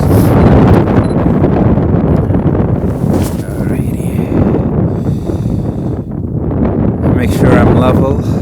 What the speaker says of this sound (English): I got a little break from the wind, which is good because it's freezing up here.